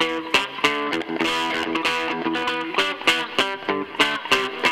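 An electric guitar riff played through a Web Audio API amplifier with distortion, a chugging, palm-muted rhythm of tight repeated chords with sharp accented hits, fairly quiet overall.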